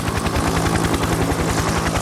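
A Bell UH-1 Huey helicopter flies close and loud, its rotor producing a rapid, steady chopping thump under a dense engine whine, with no voices.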